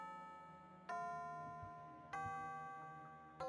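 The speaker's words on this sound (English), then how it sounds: "Here it is. The bell." A school bell rings in a video game, struck three times at even intervals, each bright chime ringing out and fading over a soft, steady low tone.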